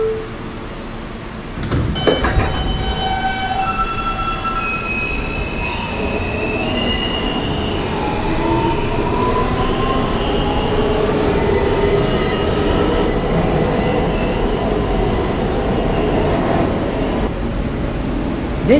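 A New York subway F local train bound for Coney Island, Stillwell Avenue rumbles loudly along the track, with a sharp clunk early on, then long squealing wheel tones over a steady rolling roar.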